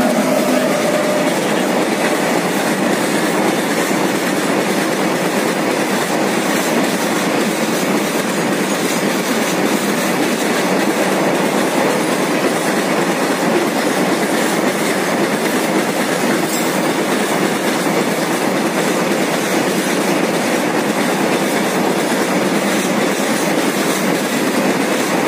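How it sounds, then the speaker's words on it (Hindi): A train rushes past close by in rural Uttar Pradesh, a loud, unbroken roar of rolling wagons and wheel clatter that holds steady for the whole stretch, with no break or fade. "देखो अभी ट्रेन आने वाली है और यहाँ पे ये ट्रेन आ गई है"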